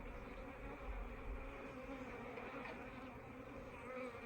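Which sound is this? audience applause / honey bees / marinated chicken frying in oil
honey bees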